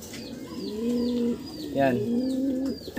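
Pigeons give several soft, throaty coos in rising-and-falling phrases, close by, while someone says a brief word between the calls.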